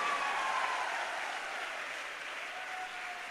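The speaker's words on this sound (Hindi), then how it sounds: "इनके लिए सबसे बेहतरीन जोरदार ताली होनी चाहिए" Sustained applause from a crowd at a business motivational event honouring company leaders, steady and dense throughout without pause, with no talking over it.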